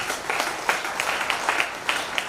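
An audience at a networking seminar for a wellness company in Lucknow claps in a soft, scattered round of applause, heard from a distance.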